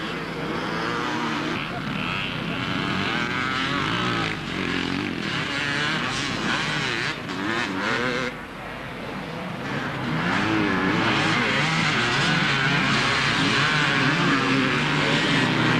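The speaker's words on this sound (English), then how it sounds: "Garth Woods, 252 Kawasaki." Kawasaki motorcycles racing at the Southport beach race in 1992, a continuous buzzing engine roar rising and falling as machines pass, with a commentator talking over it.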